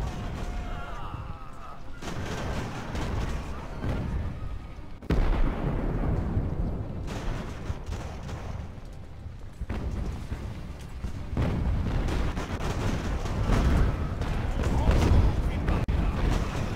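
Artillery fire during a naval-era battle in Ultimate Admiral: Age of Sail, the Siege of Toulon, with dense rumbling booms and cracking volleys layered continuously over a busy battle din while someone talks over it.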